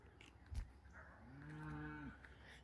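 Cattle in a nearby cow pasture give a single long, drawn-out moo that swells and fades, heard fairly close against quiet outdoor background after a brief thump.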